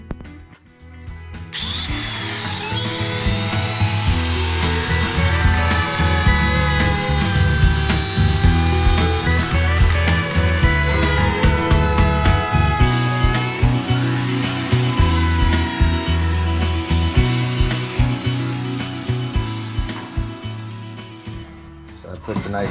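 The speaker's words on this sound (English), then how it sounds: "So I decided to round this off with a router bit," Router with a round over bit shaping the edge of a wooden headboard, a loud sustained high whine with shifting pitch that runs for about twenty seconds after a brief start, and a voice speaking beneath it.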